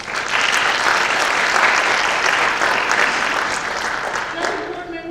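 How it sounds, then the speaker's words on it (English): Audience at a high school mid-year graduation ceremony breaking into loud, sustained applause, a dense wash of clapping that holds steady for several seconds before tapering off as a voice begins to speak. "Let's give him an applause."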